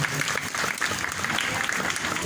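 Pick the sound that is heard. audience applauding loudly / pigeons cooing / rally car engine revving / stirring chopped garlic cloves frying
audience applauding loudly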